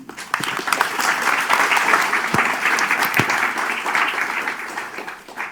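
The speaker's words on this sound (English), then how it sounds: "I think that's a good way to welcome him with even bigger applause" Symposium audience breaks into applause welcoming a guest speaker, swelling quickly into loud, dense clapping with a few distinct close claps, then easing slightly toward the end.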